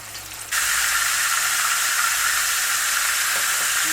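A bone-in chicken breast frying in a skillet of hot fat gives off a loud, steady sizzle that starts abruptly and holds constant, with no talking over it.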